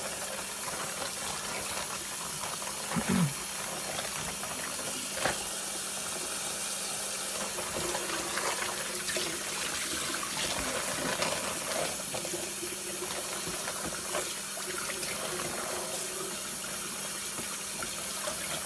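Cold water running steadily from a kitchen tap to rinse out a bag during chicken soup preparation, a constant close hiss with occasional splashes and handling noises.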